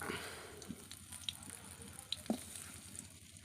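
Onions fry quietly in mustard oil in a pan, giving a soft steady sizzle with a few faint pops and clicks, low in level and close by.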